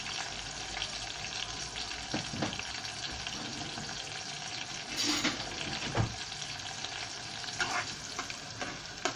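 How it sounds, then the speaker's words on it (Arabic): Koshari ingredients frying in plenty of very hot oil, a continuous close sizzle and bubbling with occasional louder pops and stirring clatter, fairly quiet overall and with no talking. "الزيت اهو بيتقلي زي البطاطس في الزيت"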